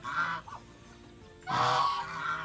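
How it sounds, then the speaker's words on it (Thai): A Barbary duck on a farm gives two loud, harsh honking calls, the second longer, with a quiet pause between them and no talk. "นี่ครับเป็ดบาร์เบอรี่ครับ"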